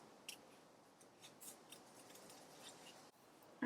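Scissors cutting a paper circle for a homemade rakhi, faint soft snips spread evenly across a quiet background, no one speaking.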